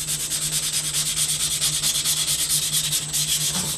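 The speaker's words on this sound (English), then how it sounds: "going to kind of buff out the blade. I'm not going to do circles on this, I'm just going to go back and forth" Someone buffs a sword blade with straight back-and-forth strokes, making a close, even rasping rub that repeats in quick, regular passes with no speech.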